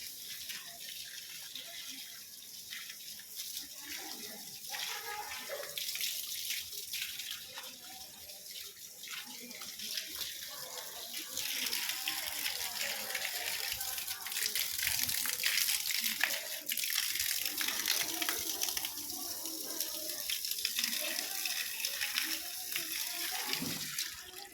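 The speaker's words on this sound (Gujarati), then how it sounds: "આ ફૂલ છોડને પાણી ચાલે" Water gushes steadily from a tap or hose onto flower plants, a continuous bright splashing wash that grows slightly louder midway, with faint speech in the background.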